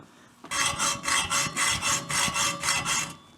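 Hacksaw cutting through a metal exhaust header pipe: about ten rhythmic, evenly paced rasping back-and-forth strokes, loud and close, with no talking.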